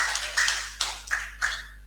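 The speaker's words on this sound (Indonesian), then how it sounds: "Tepuk tangan buat Pak Kiai." A short burst of applause for a cleric at a school event in Tegal, about five quick claps spaced unevenly, close and fairly faint.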